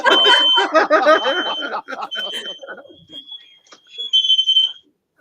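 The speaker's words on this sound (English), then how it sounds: "I'm in the basement, and it's the smoke alarm going off." A smoke alarm set off by cooking beeps in a steady high-pitched tone through the second half, after a stretch of people talking, moderately loud and indoors.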